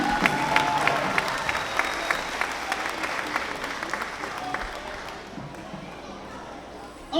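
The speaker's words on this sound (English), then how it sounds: "Another round of applause for the Golden Rock School." An audience at an Emancipation Day school program applauds the Golden Rock School with dense clapping that gradually fades toward the end.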